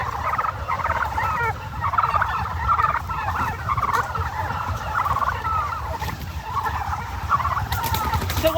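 Tom turkeys on a turkey farm gobble in a dense, continuous flock chorus, overlapping calls rising and falling without pause over a steady low rumble of the barn.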